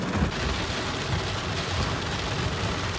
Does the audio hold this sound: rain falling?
yes